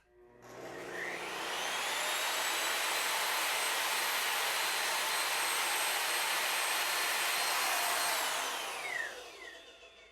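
An Evolution R10TS table saw with soft start and electronic brake winds up smoothly to a loud, steady high whine, runs alone for several seconds, then brakes to a quick stop near the end.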